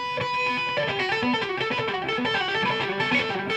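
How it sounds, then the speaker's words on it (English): Distorted electric guitar plays a steady run of picked notes, gritty and sustained, with no voices. "You can even kick in some distortion."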